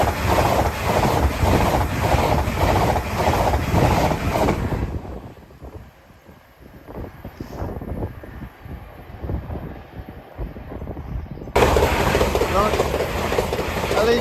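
A passing LNER express on the Edinburgh to London King's Cross line at Hell Mill level crossing: loud, dense roar from the start that cuts off around five seconds, leaving wind and faint rumble, then another surge of train noise near the end.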